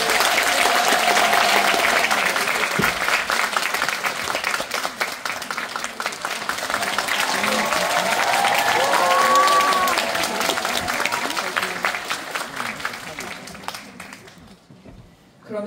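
An audience at a film screening applauds to welcome the director and actors onstage, sustained clapping that swells and holds before thinning out near the end.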